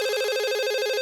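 Cartoon telephone ringing with a loud, continuous electronic trill, rapid and buzzing, close up with nothing else heard.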